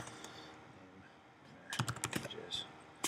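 Typing on a computer keyboard, a short burst of quick light key clicks that comes in after a quiet stretch, with a single click near the end.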